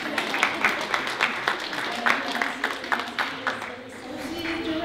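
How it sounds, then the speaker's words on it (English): Audience clapping at a recognition ceremony, a moderate round of scattered handclaps with some individual claps standing out, tapering off near the end with a voice faintly underneath. "That's where you clap."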